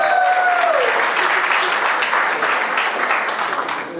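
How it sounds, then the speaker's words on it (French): Guests at a Gabonese civil wedding ceremony break into loud, dense applause that continues steadily, and a voice trails off over the clapping at the start. "Vos applaudissements, mesdames et messieurs."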